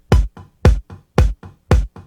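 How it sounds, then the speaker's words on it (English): A 1970s-style Easy Drummer kick drum thumps in a steady repeating pattern, each strong hit followed by a softer one, four pairs in quick succession. "Okay, this is a kick drum."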